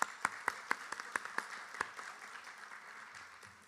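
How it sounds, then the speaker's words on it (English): Audience applause after a Bharatanatyam arangetram dance performance: a few sharp, distinct claps open the clip, then a fainter, steady patter of clapping from a modest crowd, with no talk. "Can we have a big round of applause for Noopur?"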